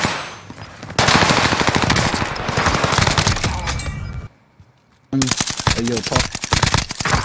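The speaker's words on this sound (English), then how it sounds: "I'm getting shot at." Video game gunfire crackles in long, rapid automatic bursts, loud and close, then stops for a brief silent gap and resumes, with a player's voice briefly heard over it.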